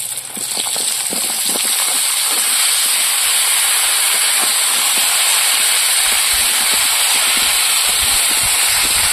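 Elephant foot yam pieces dropped into hot oil with frying onion and garlic set off a loud, dense, continuous hiss of sizzling, close up and steady throughout, with no voices.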